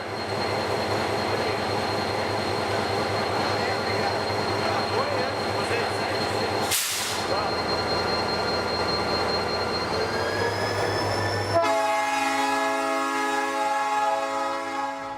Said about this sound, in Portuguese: é o som do trilho, mas ele também tem um som um pouco da máquina